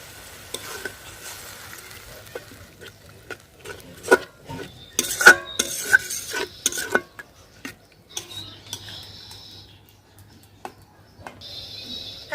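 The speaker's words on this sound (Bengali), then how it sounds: "জল দিয়ে দিব সব মশলা ভালোভাবে কষানোর জন্য।" Spices being stirred and fried in a pan for egg biryani, with scattered scraping and clinking of a utensil against the pan over a faint sizzle, in irregular bursts and no talking.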